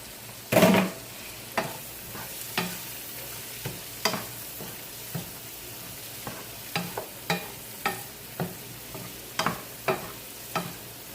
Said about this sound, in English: Throw my seasoning in, my scallion, my pepper, my tomato.